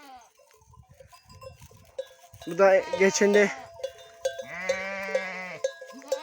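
A goat kid and a small lamb bleat on a mountain pasture, two loud wavering cries close by, one long call after another, while someone speaks quietly and a cowbell clinks faintly.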